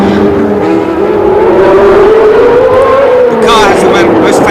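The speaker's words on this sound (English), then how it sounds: "V12 engine, it literally screams, this engine." A 1976 Formula 1 car with a V12 engine screaming at high revs during the United States Grand Prix West, a loud sustained wail rising and falling under race commentary.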